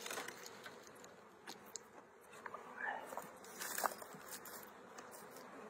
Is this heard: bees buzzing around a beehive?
yes